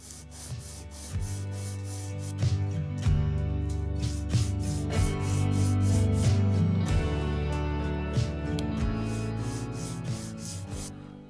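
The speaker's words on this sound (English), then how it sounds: "I have just a piece of like 120 grit sandpaper" A small piece of wood for a 1/64-scale bank barn floor model is sanded by hand with 120-grit sandpaper, giving rhythmic close scratchy rubbing strokes, repeated back and forth and fairly quiet.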